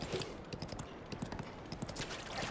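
Horse hooves clip-clop at a steady trotting rhythm in Zelda Breath of the Wild, close and moderately quiet, with no talking over them.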